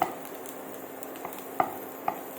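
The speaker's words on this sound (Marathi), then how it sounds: "तेलामध्ये आपण ठेचलेला लसूण घालून घेणार आहोत" Crushed garlic frying in hot oil in a pan, a quiet steady sizzle with a few soft clicks and pops.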